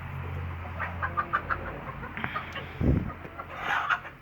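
Chickens cluck in short, scattered bursts on a village hillside, fairly close, with a few louder squawks rising over a quiet outdoor background.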